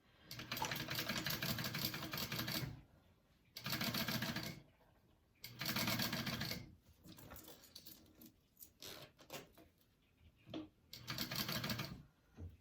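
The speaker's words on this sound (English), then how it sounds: "Okay, we are going to sew that on." A sewing machine stitches a zipper seam on a sling bag in several loud, close bursts of rapid needle rattle, separated by pauses filled with fabric handling and soft clicks.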